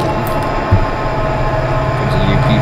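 A train rumbling along the rails in the Run8 train simulator game, a steady loud engine drone with rolling wheel noise and faint high squeals throughout.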